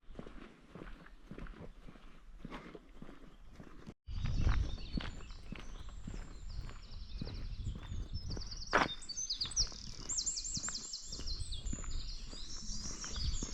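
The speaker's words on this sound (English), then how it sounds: "It's crazy the noises the birds make, obviously," Footsteps crunch along a path in Germany's Black Forest, then a chorus of birds bursts into loud, varied song and chirping, overlapping trills continuing up close over the steps.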